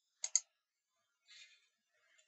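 A computer mouse clicks the Generate button in structural design software: a quick, crisp double click, close and clean, followed by a faint soft rustle and a tiny tick in near silence.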